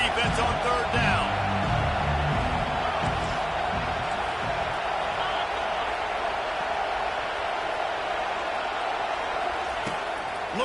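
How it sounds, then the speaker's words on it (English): Stadium crowd noise in the college football video game CFB25, a dense, steady roar holding loud throughout behind a commentator's voice. "Decibels rising as the crowd gets behind this defense on 3rd down."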